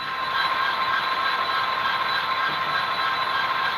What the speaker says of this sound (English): 8248, which is this SD75M, is the loudest locomotive I own.